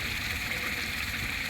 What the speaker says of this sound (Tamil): போட்டு தண்ணி ஊற்றுங்க.